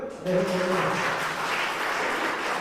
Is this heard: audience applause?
yes